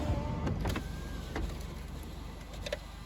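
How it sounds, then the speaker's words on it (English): Electric motor humming inside a 1996 GMC Safari as a power window runs, with a few light clicks and thumps over a low steady background. "It does have power windows, which are quick, no problems, no sounds."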